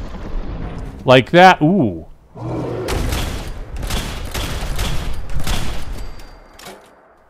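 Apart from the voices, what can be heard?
gunfire in video game (Fallout 4)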